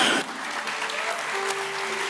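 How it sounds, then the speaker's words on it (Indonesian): Brief applause from a church congregation at a Christmas prayer service, a short burst of clapping with faint voices underneath and a held musical tone in the background. "tepuk tangan saudara"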